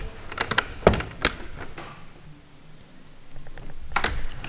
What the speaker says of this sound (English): Let's close all our doors.